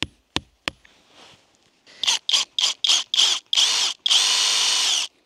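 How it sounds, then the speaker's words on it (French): Three sharp knocks, then a power drill bores into a small workbench in a series of short whining bursts, finishing with one longer sustained run, close and loud. "je viens de terminer de percer"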